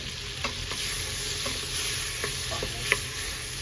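Garlic frying in a pan for beef caldereta gives a close, steady sizzle with a few light stirring clicks and scrapes, moderately loud, no voices.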